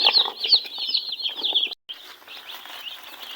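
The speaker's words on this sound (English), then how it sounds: "The birds are active in the carton." Ross 308 broiler chicks stir inside a shipping carton, with shrill, steady peeping and soft rustling and wing flutters. The sound is close and busy and breaks off briefly midway, and no one speaks.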